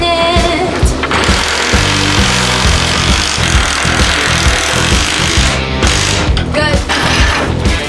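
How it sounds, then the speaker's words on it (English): Metal pieces ground down to fit a support inside a 4x4 overlanding van conversion, a loud, harsh, continuous grinding roar that holds steady and close for the whole stretch. "So now we're grinding them down so it slots in there."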